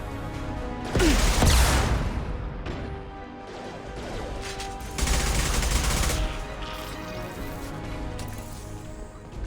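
Gunfire and crashing impacts in the Mass Effect 2 video game, loud bursts of shots and blasts that swell twice over a steady backdrop of game music, with no talking.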